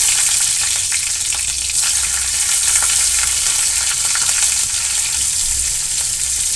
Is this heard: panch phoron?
yes